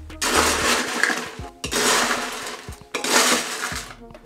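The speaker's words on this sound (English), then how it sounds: "Top it off with some more crushed ice." Crushed ice being scooped and tipped into a Mai Tai glass topping a non-alcoholic tiki drink, three loud, close bursts of crunching, rattling ice separated by short pauses.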